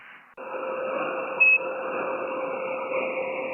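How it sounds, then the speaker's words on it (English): A steady electronic tone drones over ham radio static, with a brief brighter beep cutting in midway; no voices. "We can get rid of this beep."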